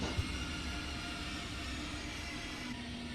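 A train in the video game Train Sim World 2 rolls to a smooth stop at a platform, with a steady low rumble and hum that holds even and gently eases, no voices over it.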